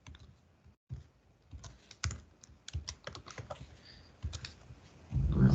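Someone types on a computer keyboard nearby, irregular clusters of crisp key clicks and taps that grow into a louder flurry at the end.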